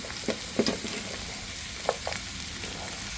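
Crushed lechon pork sisig being stirred in a frying pan, a steady sizzle with a few scraping clicks of the utensil, fairly close and with no talk.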